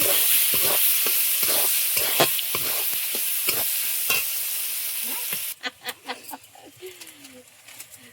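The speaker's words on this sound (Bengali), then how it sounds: "পেঁয়াজটা ভেজে নেব।" Chopped onion frying in a pan for chicken chow mein, a loud close sizzle with rhythmic scraping strokes of a spatula, the hiss dropping away sharply partway through and leaving only scattered stirring knocks.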